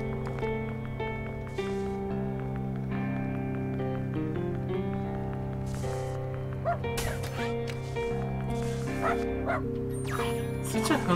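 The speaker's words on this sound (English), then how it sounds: "Such a hungry dog." Dog barking with yips and whimpers in the video game Unsighted, layered over steady game music, with someone talking at times.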